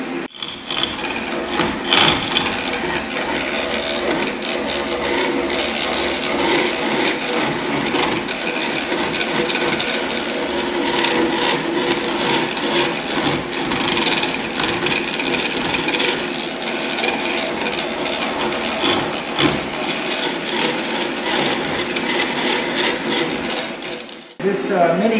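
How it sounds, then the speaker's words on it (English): A mini grinder fitted with a carbide cutter power-carving wood, a loud, steady abrasive rasping and whirring that runs almost without a break, close up and alone, cutting off briefly near the end. "Mini grinder."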